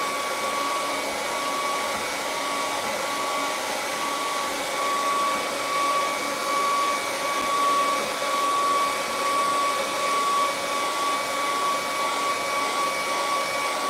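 A hair dryer runs steadily on a painting of a coastal scene, giving a loud, continuous whooshing hum with a faint whine that holds unbroken throughout, with no talking.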